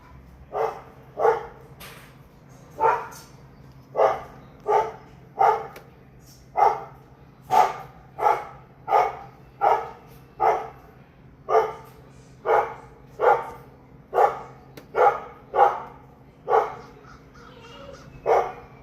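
Outdoors in cold weather, a dog barks at birds in a steady series of about twenty evenly spaced, moderately loud barks, alone over low background hum.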